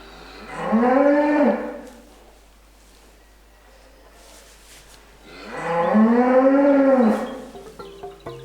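Beef cattle on a farm low in two long, loud moos, each drawn out over a second or so with a quiet pause between, close and clear with no talk.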